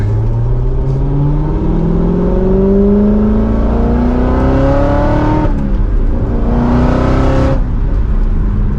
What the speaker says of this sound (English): Let's do another acceleration here once we get a little bit more straight.